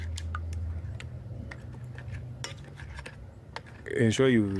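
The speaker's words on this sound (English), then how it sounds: "Beat the eggs severally so that it can absorb the ingredients or the spices evenly." Whisk or fork clinking against a bowl while eggs are beaten with spices, a run of light irregular taps and ticks, then a louder scraping swirl near the end; close and moderately quiet, no talk.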